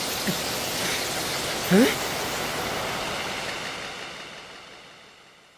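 Rain falls in the boxing anime Hajime no Ippo as a soft, steady hiss that slowly fades away toward silence, with a brief faint chirp-like blip partway through.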